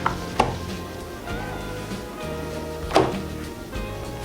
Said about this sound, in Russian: Открываем ящик.